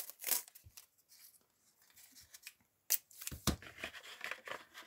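Adhesive tape is pulled and torn in a few quick, rasping bursts, with quiet rustling and handling noises in between.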